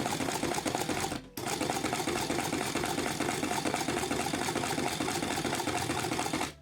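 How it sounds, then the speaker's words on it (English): A Singer Magic Tailor mini sewing machine whirs in a fast, continuous mechanical rattle, stopping briefly once, then running steadily again. "So as that sews, this bit at the top actually spins"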